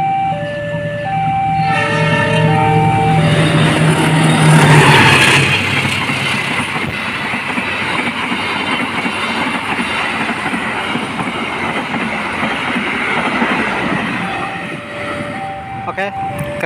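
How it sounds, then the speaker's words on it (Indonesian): The Argo Lawu passenger train rumbles loudly straight through Tanjung station in Indonesia without stopping, its horn sounding at the start, then wheels clatter over the rails for a long pass, with voices nearby. "kereta api Argo Lawu persiapan melintas langsung stasiun Tanjung"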